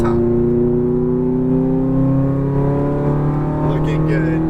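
A Ferrari F430's engine pulls hard on a track under acceleration, a loud, steady rising drone throughout, with an instructor's voice talking over it.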